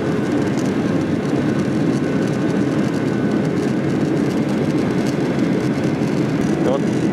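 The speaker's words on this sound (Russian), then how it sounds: "Вот уже в самолете сидим здесь, ожидаем взлета." Steady low roar inside the cabin of a basic passenger airplane, a dense, unbroken engine and air hum at constant loudness throughout.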